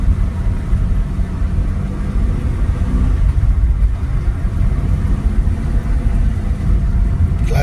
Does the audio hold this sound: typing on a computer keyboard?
no